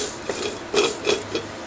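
A greased driveshaft slides in and out of its yoke on a vehicle, giving soft sliding rubs in a few short strokes, fairly close and quiet, with no talk.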